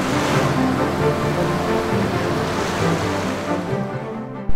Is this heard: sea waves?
yes